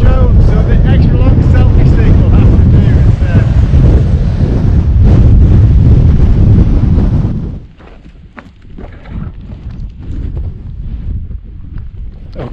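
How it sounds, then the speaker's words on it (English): Strong, gusty wind roars loudly across the microphone on a mountain summit at Tal y Fan in North Wales, then abruptly drops to lighter buffeting with faint rustling for the last few seconds. "Summit. Very windy."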